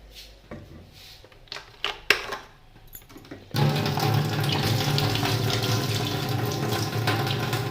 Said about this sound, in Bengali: এই যে দুটো বোতলে জলটা তুলে রেখে দিই